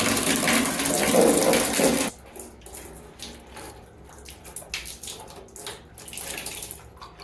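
Water rushing from a household pipe after the tank valve is shut, a loud steady gush that cuts off abruptly, followed by quieter trickles and dripping splashes.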